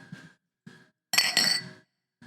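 Pint glasses clink together in a bright double chime, with brief bits of voices just before and after.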